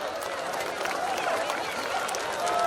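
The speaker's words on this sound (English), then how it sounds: "And a big round of applause." Sustained applause from an event audience fills the room, many hands clapping in a dense wash that swells slightly toward the end, with faint crowd noise beneath.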